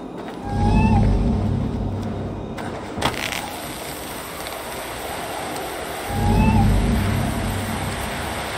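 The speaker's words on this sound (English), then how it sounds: "Who put you up here, little cat?" Two drawn-out cat meows sound in Assassin's Creed Valhalla, spaced several seconds apart, over a low game ambience and a brief clatter in between.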